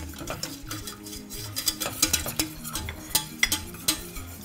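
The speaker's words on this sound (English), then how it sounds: "And we just continue whisking throughout the entire process" A whisk stirs white sauce with cream of mushroom soup in a pot, giving irregular light clicking taps against the pan, faint and close, with no talk.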